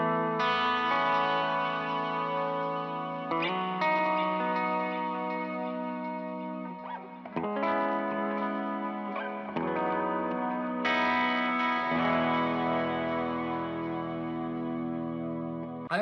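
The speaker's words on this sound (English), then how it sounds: "This is with just a little bit of reverb and delay from the Big Sky on the timeline." Electric guitar played through a Big Sky pedal with light reverb and delay, sustained chords and notes ringing with a lush, echoing tail, steady and loud throughout with no talking.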